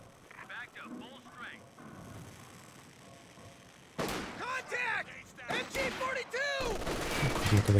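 Light machine gun fire from Riflemen and Grenadiers trading shots in a Company of Heroes 2 match, rapid overlapping bursts and crackling volleys that grow louder and denser partway through, with a narrator talking over the battle.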